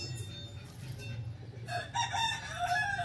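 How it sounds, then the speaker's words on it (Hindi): Chickens clucking and a rooster crowing as the hens roam a garden yard with petunias, loud and close with outdoor background noise. "ये मुर्गियां हैं घूम रही हैं सब"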